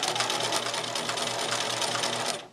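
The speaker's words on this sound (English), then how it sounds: "So now I'm sewing through the neck strap and the apron" Close and loud, a sewing machine runs continuously, stitching a neck strap onto an apron with a steady, fast mechanical whir that stops abruptly at the end.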